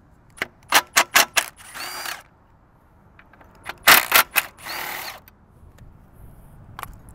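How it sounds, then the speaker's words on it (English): Two Torx 40 bolts are backed out of the idle control valve on a BMW X5 E53 with the M54 engine. Quick bursts of clicking ratchet or driver strikes alternate with two longer whirring tool runs, close and loud. "Now I'm gonna remove the idle control valve. It's 2 Torx 40 bolts."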